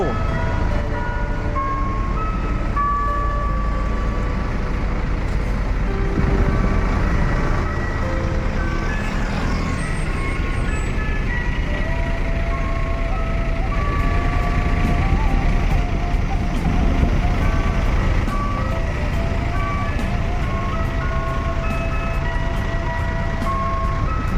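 An NPM intercity bus pulls out of a bus terminal bound for West Sumatra, a steady low engine rumble running throughout with tonal, horn-like notes and beeps layered over busy terminal ambience.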